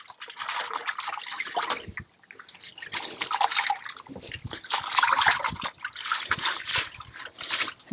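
Retted flax fibres are rinsed in water, giving irregular splashing, dripping and trickling sounds close by, with rhythmic surges as the fibres are worked and sloshed, no talk.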